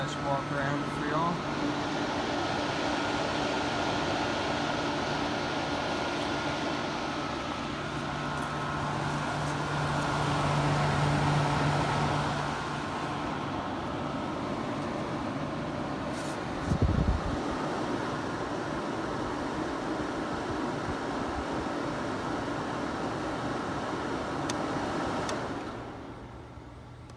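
A 1977 Kenmore 6000 BTU window air conditioner by Whirlpool runs with a steady, broad whooshing hum. It continues at a constant level for the whole stretch, with a voice talking over it and a brief thump partway through.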